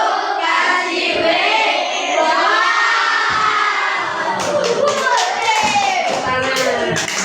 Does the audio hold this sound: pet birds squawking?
no